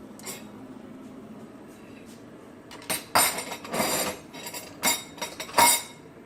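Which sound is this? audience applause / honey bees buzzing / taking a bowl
taking a bowl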